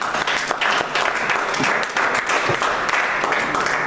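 A church congregation breaks into sustained applause after a French sermon, a dense, steady wash of clapping that fills the room for several seconds.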